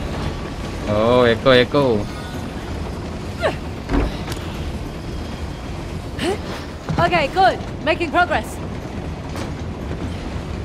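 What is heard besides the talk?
old model train moving, from video game Uncharted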